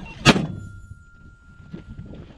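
A USMC 60mm mortar fires once, a sharp, loud near boom at the start that decays quickly, followed by faint ambient rustling and quiet background activity outdoors.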